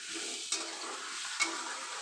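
Potatoes fry in a pan with a steady, bright sizzle and crackle. Two sharp scrape-and-clack stirring strokes cut in about a second apart.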